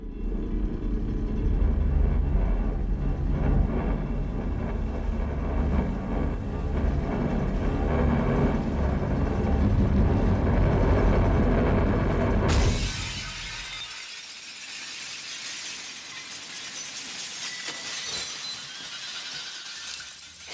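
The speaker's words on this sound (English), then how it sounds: "We had to create that sense of vibration, a didgeridoo type sound that preceded the smashing glass." A dense, rumbling low vibration like a droning didgeridoo builds for several seconds, then gives way abruptly to a loud burst of shattering glass whose bright shards scatter and tinkle as the rumble drops out, during an X-Men Pentagon break-in.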